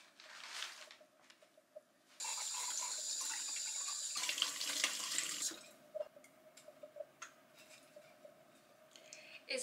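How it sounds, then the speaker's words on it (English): Water from a tap runs into a vase holding fresh-cut flowers, a steady splashing stream lasting a few seconds between soft clinks and handling noises, close and quiet. "let me just put water in it right now"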